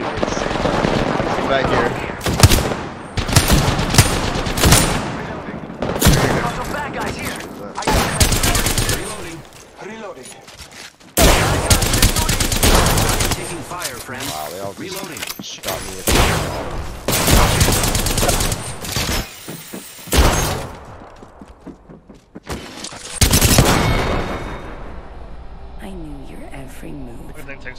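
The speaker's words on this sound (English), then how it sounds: "They're shooting at me." Video game gunfire from a live stream: repeated loud bursts of automatic fire and single shots come in uneven clusters, with gaps between, while a player talks over them.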